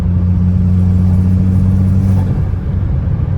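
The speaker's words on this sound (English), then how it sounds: "All the windows up and everything, you can hear the intake in the car way better." Steady low engine rumble with turbo intake sound inside a bagged Audi with the windows up, a constant droning hum that eases slightly near the end, no talking.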